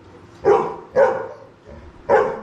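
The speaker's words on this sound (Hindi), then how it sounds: "इक्षत से डर रहा है इसलिए भौंक रहा है" A dog barking three times in a short, loud, close burst pattern, evenly spaced with brief pauses, alone without talk.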